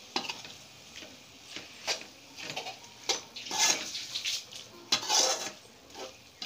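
Small pieces of boneless chicken go into a pan for Indian-style chicken pasta and are stirred with a utensil, giving close scraping and clattering strokes over a soft sizzle.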